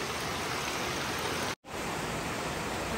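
Steady morning rain falling, a dense, even hiss that continues throughout, broken by a single brief dropout near the middle.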